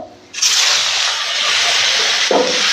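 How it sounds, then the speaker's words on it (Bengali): A fish head dropped into hot oil in a home kitchen, a sudden loud sizzling hiss that starts abruptly and holds steady, with a brief bubbling flare near the end. "শুধু একটা মাথা আছে তো মাথাটা ভেজে নেবো"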